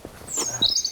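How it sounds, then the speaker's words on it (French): A few short bird chirps and tweets sound close by in a forest in spring against a quiet outdoor background, with bright high calls toward the end. "Les oiseaux chantent, le printemps arrive."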